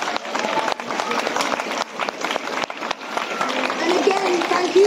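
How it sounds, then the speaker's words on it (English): A school audience claps and cheers continuously, a dense wash of applause that holds steady and swells slightly toward the end. "huge round of applause from the Mahomet School."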